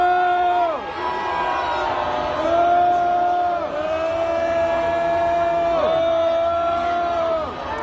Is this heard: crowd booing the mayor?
yes